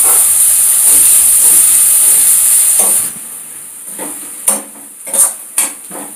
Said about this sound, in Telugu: ఆనియన్ ఫ్రై అయిపోయింది